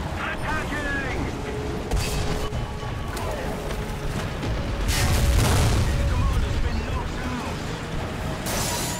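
Explosions and booming tank cannon fire from a T-80 battle in a video game, steady mechanical rumble with a heavy swelling blast midway and sharp bursts, a voice talking underneath.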